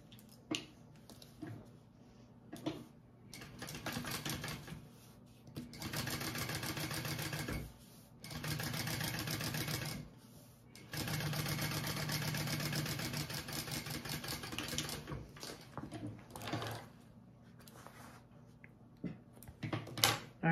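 A sewing machine top-stitches along the lining of a fabric bag in several sustained runs of steady mechanical whirring, separated by short pauses with small clicks and handling noises.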